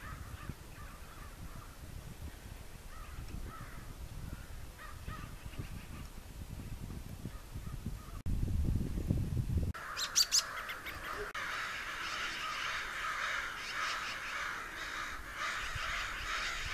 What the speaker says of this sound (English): Lots of crows and magpies having a meeting.